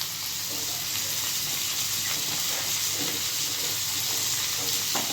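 Mustard seeds and asafoetida sizzling in hot oil for a tempering, a steady loud frying hiss with light occasional stirring sounds throughout.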